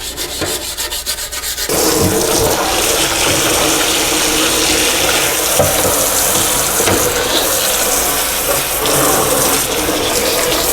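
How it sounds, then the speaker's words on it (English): Amiga A500 RF shield metal parts rinsed under a running tap, water splashing and rushing continuously, with rubbing and scrubbing against the metal, close and loud, no talking. "Give them a good final rinse down, get the soap off of them."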